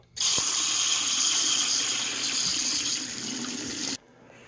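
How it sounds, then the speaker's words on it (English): Hot water gushes from a tap into a sink in a steady, close stream for about four seconds, then shuts off abruptly. "fill the sink up, plug her up, fill her up with hot water"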